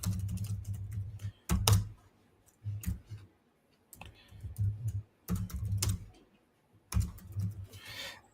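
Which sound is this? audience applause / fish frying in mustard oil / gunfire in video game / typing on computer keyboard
typing on computer keyboard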